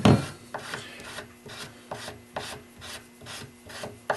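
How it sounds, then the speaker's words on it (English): An armorer's wrench turns on a rifle's free-float handguard, making a close, rhythmic rasping scrape repeated about eight times at an even pace, with no talking. "Now we're going to take our armorer's wrench, and that's all it takes."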